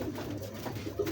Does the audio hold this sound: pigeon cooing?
yes